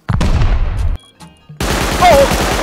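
Gunfire in the survival video game Rust: sharp repeated shots in bursts, loud and close, with a short quieter gap in between and some broadband crackle.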